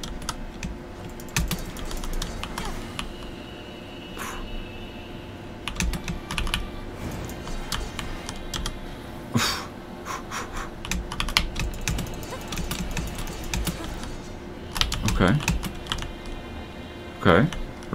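Computer keyboard keys clatter in dense, irregular bursts during play of the game Nier, steady and close, with a few sharper louder presses and voice sounds in the background.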